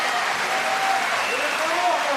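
An arena crowd at a Paralympic goalball match between China and Ukraine applauds and cheers after a throw, a dense steady wash of clapping and voices with commentary running over it.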